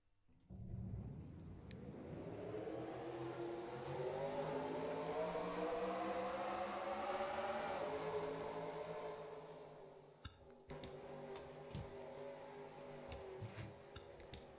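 Pack of racing trucks in a video game truck series race at Seattle, engines droning and rising together in a long loud sweep as they roll off, then a lower engine hum broken by sharp ticks and clicks.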